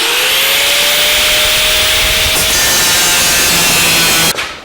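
Sheet steel being cut and trimmed on the firewall of a 1949 Chevrolet gasser, a steady loud grinding, rasping cut running for about four seconds before stopping abruptly, with no talk.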